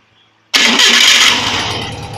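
A Volkswagen Beetle engine fires up abruptly after a brief silent crank, roaring loudly at once and then settling into a steady, slightly easing run close by.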